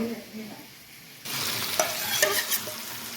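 Prawns for a chingri dopeyaja hit a hot pan: near-quiet at first, then a sudden loud burst of sizzling that holds steady with sharp crackles and spits, no voices.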